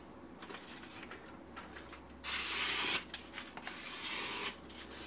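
A knife is sharpened on a Shapton Pro whetstone, the blade rasping across the stone in soft strokes and then a louder, longer hissing scrape near the end, close and without talk.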